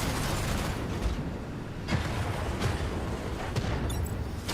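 Rapid mecha gunfire in the Mecharashi PC game rattles in dense bursts over a steady mechanical battle din, with a few sharper shots standing out near the end.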